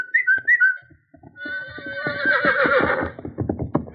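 A horse whinnies loudly and at length, its cry rising and shaking before trailing off, preceded by a few brief whistle-like tones.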